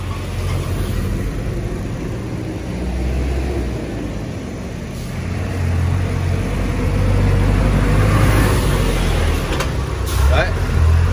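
A 2008 Hyundai Verna 1.4 manual idling, heard close as a steady low rumble that grows slightly louder toward the end, with no voices.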